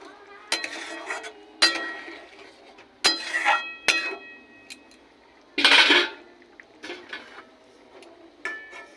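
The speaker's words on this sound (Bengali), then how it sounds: "ঢাকা দিয়ে দিচ্ছি।" A metal lid set down on a pot of simmering matar paneer, giving a few sharp clinks and clattering knocks spread out over several seconds, close by with quiet gaps in between.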